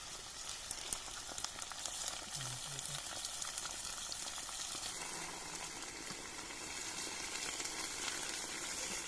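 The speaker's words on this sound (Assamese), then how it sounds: "পিঁয়াজখিনি ব্ৰাউন হোৱাৰ পাছত মাংসকেইটা" Chicken pieces fry together with browned onions in a pan, a steady crackling sizzle with light stirring and a faint bubbling undertone, heard up close and without speech.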